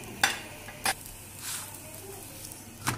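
A paratha flatbread cooks in a pan with a faint low sizzle, broken by a few short sharp taps and scrapes of a utensil, close and quiet with no talk.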